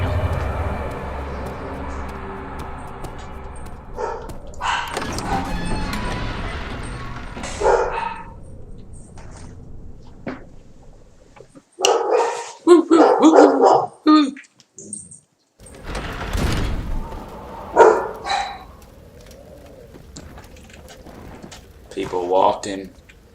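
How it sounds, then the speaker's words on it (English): Dogs bark at passersby in a neighborhood within the horror video game Amnesia, in short loud bursts over a steady ambient drone, with birds chirping and a person talking at points. "People walking through the neighborhood and the dogs barking at them."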